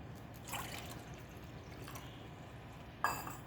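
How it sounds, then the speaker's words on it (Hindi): Drinking water is poured for a pet as a faint, steady trickle over a soft background hiss, ending in a brighter clink, like a container touching a bowl. "तो बन्नी जी लीजिए, लीजिए, ये खा लीजिए और पानी भी साथ में दे दूँ।"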